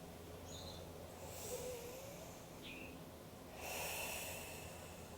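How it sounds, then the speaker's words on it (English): A slow, deep breath drawn in and then released, soft and close, with a faint steady hum in a quiet room. "Take a deep breath."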